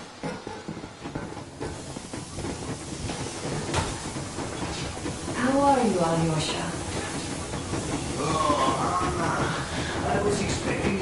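A steam locomotive runs in Metro Exodus, giving a continuous hiss and rumble of the moving train while people talk over it.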